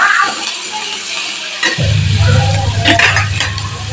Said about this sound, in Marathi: कांदा छान असा भाजून घ्यायचा आहे.